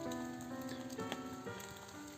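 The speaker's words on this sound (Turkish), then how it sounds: "Yağmur ara ara hızlanıyor." Rain falls steadily on a lone hammock camp in a forest, a dense continuous patter and hiss with a few sharper drips, no voices.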